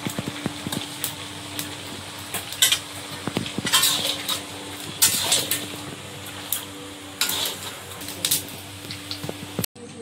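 Fish curry bubbles in a cooking pot as a utensil scrapes and knocks against the metal in irregular bursts, close and fairly loud, with no talk.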